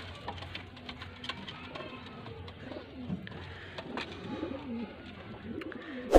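Pigeons coo steadily in a pigeon-keeping setting in Faisalabad, with low murmuring calls overlapping throughout, plus occasional rustling and flapping nearby.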